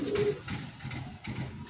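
Quiet, low cooing from pigeons in a loft, a few soft rolling calls in steady succession at moderate distance, with faint background murmur and no clear talk.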